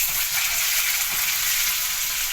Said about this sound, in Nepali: प्याज डालिए, प्याज डाल के फ्राई करिए